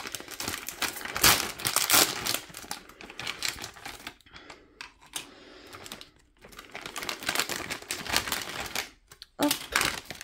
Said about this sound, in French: Ah, c'est bon, j'arrive à déchirer.